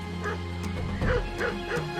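Hunting dogs barking and yelping in a few short, repeated calls over a steady droning background, moderately distant and without speech.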